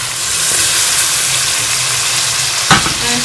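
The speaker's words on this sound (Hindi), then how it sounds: "लहसुन को हमने अच्छी तरह से फ्राई कर लिया। अब इसमें प्याज शामिल कर लेंगे।" Onions dropped into a pan of fried garlic, giving a loud, steady, close sizzle and hiss of frying oil throughout, with a brief clatter of stirring near the end.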